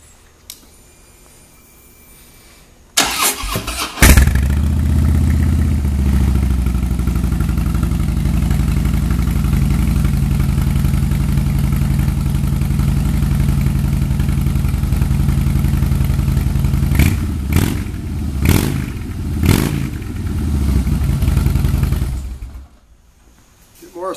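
A 2011 Harley-Davidson Softail Deluxe engine fires up after a moment of quiet, then idles with a deep steady rumble and several sharp revs before cutting off.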